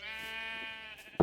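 A single sheep bleat from Minecraft, a drawn-out wavering cry of about a second, ending in a short sharp click.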